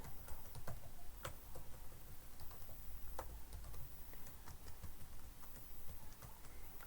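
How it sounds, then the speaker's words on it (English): Someone types on a computer keyboard while entering a password, a quick run of soft, uneven clicks in a quiet room, with no voices. "I'm typing as some random password"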